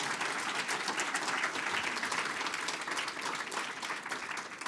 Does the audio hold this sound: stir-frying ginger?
no